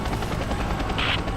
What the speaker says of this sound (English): The helicopter is too fast.